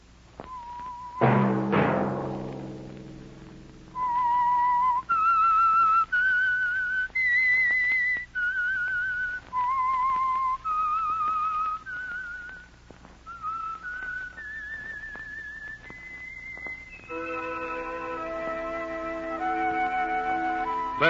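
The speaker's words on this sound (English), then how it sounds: "Let that whistle be your signal" A clear, melodic whistled tune from the 1951 radio drama The Whistler carries on for about twenty seconds, with sustained notes rising and falling, preceded by a brief swooping tone.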